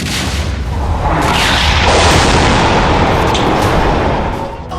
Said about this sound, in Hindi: गाजा में बम बरस रहे हैं